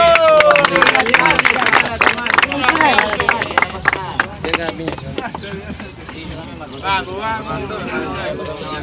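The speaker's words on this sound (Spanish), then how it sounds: "¡Un aplauso, loco!" Loud crowd clapping and cheering fills a Spanish-language rap battle venue, dense applause running throughout with voices shouting over it.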